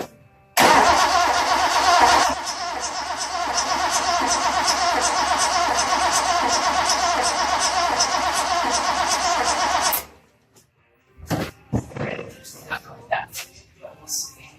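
A Datsun 240Z with freshly filled carburetors cranks and fires up, its engine roaring loudly and steadily for several seconds before cutting off, followed by scattered knocks and bumps.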